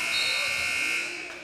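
A buzzer sounds at the end of the first quarter of a high school boys' basketball game, one sustained, loud, bright electronic tone in a gym that fades near the end.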